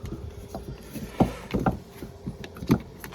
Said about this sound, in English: I'm just gonna wind it until it stops.